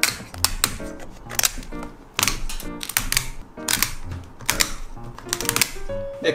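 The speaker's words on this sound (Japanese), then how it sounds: "それじゃあ足を切断していきましょう。 もうハサミをね、使っていきます。" Scissors snip through the legs of a giant shrimp in a steady series of close, crisp crunching cuts, with short pauses between clusters.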